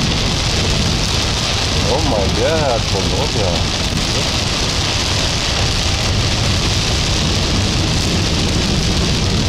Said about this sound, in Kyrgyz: Не деген жамгыр.